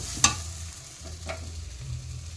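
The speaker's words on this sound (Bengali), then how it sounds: "দেখো মশলা ভাজা হয়ে গেছে, মশলা থেকে তেল ছেড়ে দিচ্ছে।" Soft, steady sizzling and frying in a pan with a brief stir or scrape near the start; quiet and close, no voices.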